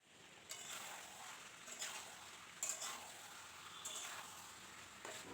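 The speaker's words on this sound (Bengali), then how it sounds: "এবার আমি একটু খুন্তি দিয়ে নাড়াচাড়া করে দিচ্ছি" Chicken curry being stirred in a pan with a metal spatula, a steady frying hiss broken by several scraping strokes spaced a second or so apart, fairly quiet and close.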